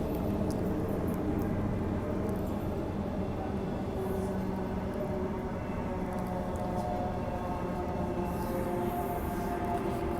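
A train rumbles through Perth Underground station, a steady low mechanical drone with faint high whines above, continuous and even throughout with no voices.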